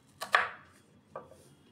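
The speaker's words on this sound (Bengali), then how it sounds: "এইভাবে একদম কুচি কুচি করে কাটবো" A knife chops vegetables finely for a Kurkure bhel snack, giving a few quick, close, crisp strikes: two in fast succession, then a softer single cut after a pause, with no talking.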